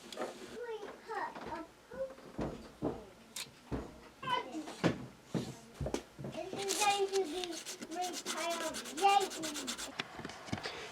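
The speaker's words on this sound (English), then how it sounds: "Here I'm filing some grooves into the rubber, not all the way through because that would make it come off." Rubber on a Star Wars thermal detonator prop being filed into grooves, giving repeated short rasping strokes in an uneven rhythm, close and fairly quiet, with some faint voice-like sounds between them.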